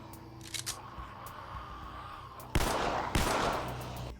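Two sharp gunshots from The Walking Dead: Survival Instinct video game ring out close together after a quiet stretch, each followed by a short decaying tail.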